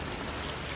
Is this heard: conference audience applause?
no